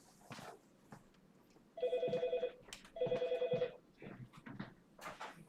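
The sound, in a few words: telephone ringing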